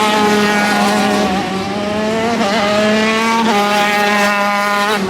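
Top-class high-speed go-karts with multi-gear transmissions racing on a track, their engines producing a loud, sustained high-pitched whine that rises and dips through gear changes as they pass close by.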